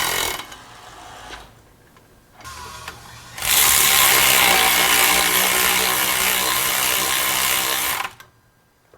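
A power tool or ratchet drives the drive shaft bolts on a Mercedes Sprinter during a transmission replacement. Short whirring bursts come first, then a long, loud, steady buzzing run of about four seconds, close up, with no talk.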